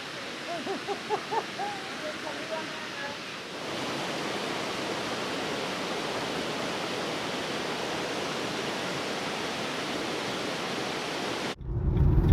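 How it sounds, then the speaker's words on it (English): Torc waterfall on the Ring of Kerry roars as a steady, dense broadband rush of falling water close by, continuous for the whole stretch, with a brief voice-like murmur early on. "We've managed to get a great little parking spot to go and visit the Torque waterfalls."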